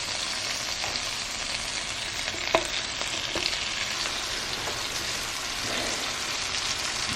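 Lemon slices fry in melted butter in a pan with a continuous soft sizzle and crackle and a couple of small taps, moderately close with no talking.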